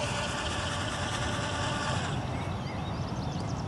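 A Lockheed Martin Samarai monocopter UAV's motor whirs steadily at reduced throttle, a broad close buzz with a hum that shifts slightly partway through, with no talk.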